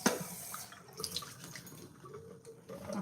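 A tap runs steadily into a sink while something is rinsed, a soft continuous water stream with small splashing and dripping, fairly quiet and close, no talking over it.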